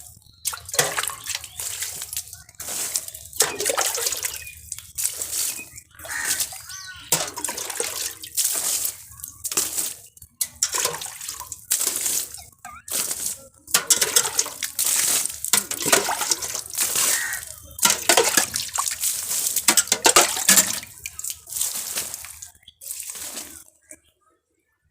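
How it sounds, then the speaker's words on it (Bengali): Water poured onto pumpkin plants in a village garden, heard as repeated splashing bursts of moderate loudness with short pauses between pours, a faint voice now and then. "গাছের গায়ে জল দিতে কত সুন্দর দেখতে লাগছে"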